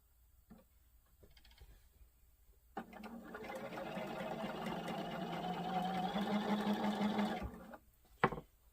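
A sewing machine stitches quilt fabric for a patriotic wallhanging in a steady, close, mechanical run of about five seconds. A few faint handling clicks come before and after.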